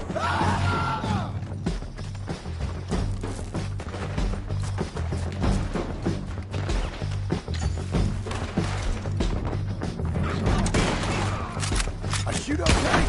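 Gunfire crackles throughout a Red Dead Redemption 2 shootout, dense repeated shots and thuds over a steady low rumble of ambient game sound, with no clear pauses.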